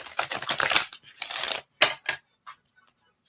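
Tarot cards being shuffled by hand, a close run of rapid crisp riffling and flapping that comes in uneven bursts and then thins out into a few soft taps before quiet, with no talk.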